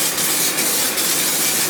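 Continuous broadband hiss of GM trunk splatter paint spraying from a can onto a car's trunk floor, steady and close for the whole stretch with no talking.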